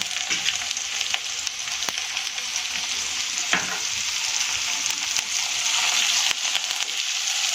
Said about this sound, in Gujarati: એને પણ આપણે બટેકા સાથે સારી રીતે સંતળાવા દઈશું